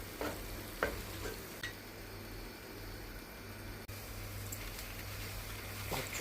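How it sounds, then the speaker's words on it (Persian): Chopped onions and tomato paste sizzle steadily in hot oil, with a constant frying hiss and a few sharp scrapes and taps as the mixture is stirred in the pan. "یه قاشق خورد به گوجم بهش اضافه میکنم، داخل روغنش کاملا سرخ میکنم."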